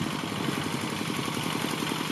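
Single-cylinder engine of a walk-behind tractor ploughing a rice field, running steadily with a fast, even thumping pulse, loud and close, no voices.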